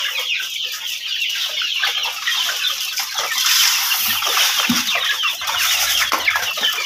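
Pet pigeons feeding on bread pieces and grain from a tray and box, with a steady chorus of close, busy bird calls and clucking throughout, plus occasional soft low thumps.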